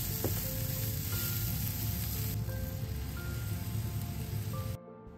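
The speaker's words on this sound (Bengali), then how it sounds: "তো পেঁয়াজটা ভেজে নেওয়ার পরে কিছু টমেটোর টুকরো দিয়ে দেবো, আর দিয়ে দেবো ওদিকে হচ্ছে আদা লঙ্কা বাটা।" Onion fries in a pan with tomato pieces and ginger-chili paste, giving a steady, dense sizzle close by that continues without pause and then drops away abruptly near the end; no one speaks.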